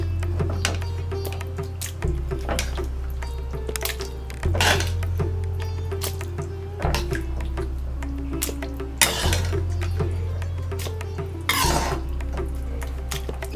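A metal ladle stirs sambar into cooked rice in a pot, with repeated scraping and clinking strokes against the metal, sharp knocks recurring roughly every two seconds over a steady low background hum.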